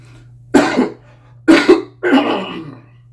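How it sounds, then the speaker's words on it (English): Three harsh coughs, close to the microphone, spaced about a second apart over a low steady hum. "Sorry for the cough."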